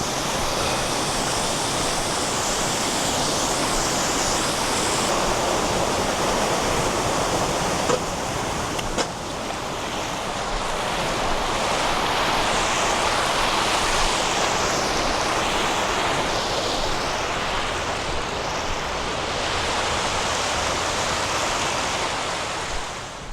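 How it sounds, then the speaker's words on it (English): Waterfall pouring down onto a rocky beach beside breaking waves, a loud, constant roaring wash of water that holds steady throughout with no voices. "there was plenty of water coming down the waterfall just then"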